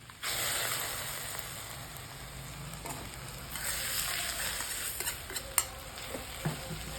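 Okra stir-fry sizzles steadily in a pan while a spoon stirs and scrapes through it, with a few sharper clinks of utensil against the pan near the end, fairly quiet and close.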